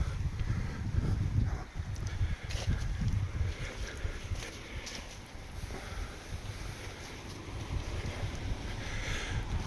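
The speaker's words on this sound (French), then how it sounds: "et le vent se lève" Gusty wind rising outdoors at Fontainebleau, low rumbling buffeting against the microphone with shifting intensity and a steady background hiss, no talk.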